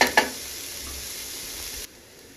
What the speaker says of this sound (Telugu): సిమ్లో పెట్టుకొని ఒక 2-3 సార్లు ఇలా మధ్య మధ్యలో మిక్స్ చేసుకుంటూ ఫ్రై చేసుకోవాలి.